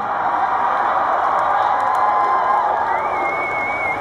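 Concert crowd at an outdoor mall show in Pullman, Washington, cheering and whooping at a hip-hop set, a dense sustained roar with scattered shouts and a faint whistle, loud and continuous with no talk on top.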